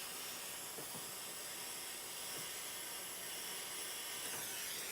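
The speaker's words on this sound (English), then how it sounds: "You can turn this torch up quite a ways, but we got so much heat we don't need it." A jewelry torch flame hisses steadily while heating a silver pendant, a soft, continuous, close rushing hiss with faint clinks beneath.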